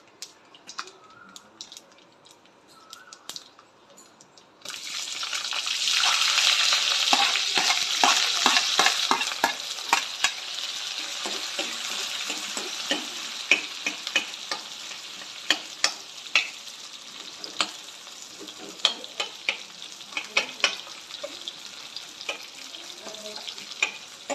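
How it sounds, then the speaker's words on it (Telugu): Loud sizzling starts suddenly as chillies, onions, ginger and curry leaves hit hot oil, then continues steadily with frequent stirring scrapes and clicks. "మిర్చి, ఆనియన్స్, అల్లం, కరివేపాకు పోపులో వేసుకోవాలి"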